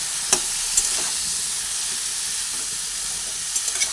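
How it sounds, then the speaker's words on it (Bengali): Jackfruit stirred and frying in a pan gives a steady, even sizzle throughout, marked by a few light clicks of a utensil against the pan. "সব দিয়ে এবারে ভালোভাবে নাড়াচাড়া করে নিচ্ছি।"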